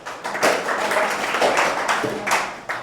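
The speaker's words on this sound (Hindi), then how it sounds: "तालियां बजा दो रोहित के लिए एक बार।" Classroom students clap for a classmate in a short burst of scattered, uneven claps, fairly close and moderately loud, with no voices over them.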